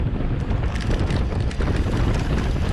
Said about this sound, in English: There is a pretty strong wind from the south.